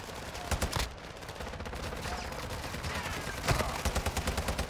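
Heavy gunfire in the video game Modern Warfare III, dense overlapping bursts and rapid automatic fire that rattle steadily throughout, loud and close, with a few sharper volleys standing out.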